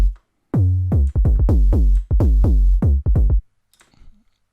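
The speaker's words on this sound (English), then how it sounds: "and the basses together with the tom sound like this." Electronic bass shots layered with a tom drum, bit-crushed and downsampled, a dozen punchy booming hits in a steady stop-start pattern, loud and close, followed by a short tail of faint clicks.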